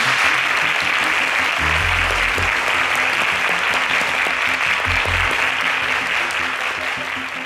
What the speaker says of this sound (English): A round of applause for Joan